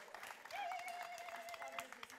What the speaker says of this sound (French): C'est pour le roi des rois qu'on applaudit.